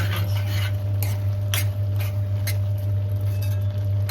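Rajma curry is stirred in a pot after a little sugar goes in, with a spoon scraping and clinking against the metal in light, repeated strokes over a steady low kitchen hum.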